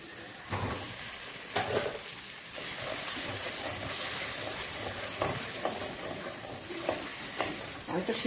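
Boiled potatoes fry in a pan of spices for an egg omelette curry, giving a steady sizzle broken by repeated scraping stirs of a spoon, close and moderately loud, with no talk.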